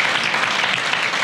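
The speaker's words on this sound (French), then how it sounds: "Donc je vous demande d'applaudir toutes ces personnes." Steady audience applause at a bank's party, dense and continuous clapping filling the room at an even level for the whole moment.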